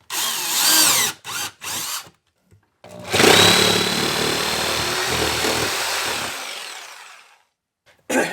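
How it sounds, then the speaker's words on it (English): A power drill boring through a section of plywood wall to fit an electrical box for a 240V outlet: a few short loud bursts, then one long continuous run that slowly winds down. "I'm going to drill out this section of plywood to put the box in"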